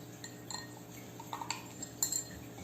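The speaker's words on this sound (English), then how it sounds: "We're supposed to stir until we can see my hand too." A spoon stirs inside a glass of liquid, with faint scattered clinks against the glass and a brighter tap near the end, all soft and close.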